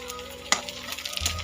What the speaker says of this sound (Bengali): আলু পেঁয়াজ একটু সামান্য লবণ হলুদ দিয়ে ভেজে নেব